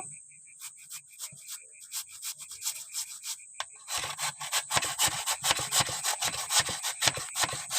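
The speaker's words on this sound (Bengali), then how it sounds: "এখানে আমি একটা গ্রেটার মেশিন নিয়েছি আমি এটা দিয়ে এরকমভাবে গ্রেট করে নেব" Two peeled raw potatoes are rubbed against a hand grater in rhythmic scraping strokes, sparse at first and then fast and loud, close up with no talk.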